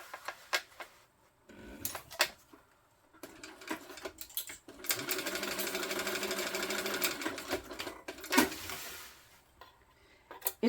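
A sewing machine stitches a tote bag lining, starting in short stuttering runs and then settling into a longer steady stretch of close, moderately loud whirring before stopping.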